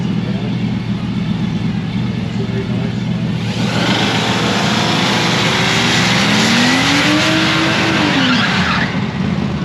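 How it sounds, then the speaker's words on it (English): A car doing a short burnout, a broad roar of engine and tire noise that swells and grows louder midway, with a rising squeal sweeping across it, loud and close throughout. "Nice little burnout."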